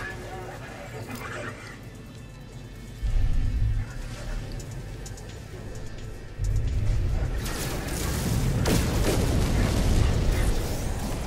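Space combat against pirates in No Man's Sky, with an upgraded fighter ship: a steady roar of weapon fire and booming blasts that jumps louder twice and then stays loud, with no talk.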